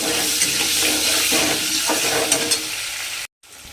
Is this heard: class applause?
no